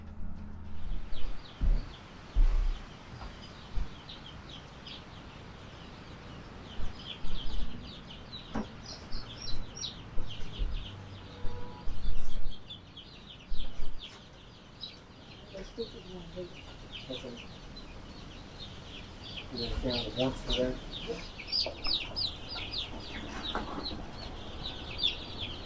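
Freedom Ranger and week-old Kosher King chicks cheep and peep continuously in a brooder, a dense chorus of high chirps with scattered louder calls and some background handling noise.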